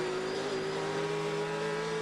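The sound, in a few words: Daytona Prototype race car going by at Sebring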